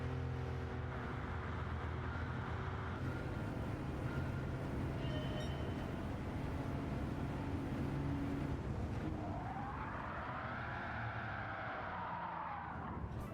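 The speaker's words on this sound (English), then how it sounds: "Oh, listen to them brake lock up." Tyres locking and skidding under heavy braking in Gran Turismo 7, a continuous loud engine and tyre roar throughout, ending in a rising and falling squeal near the close.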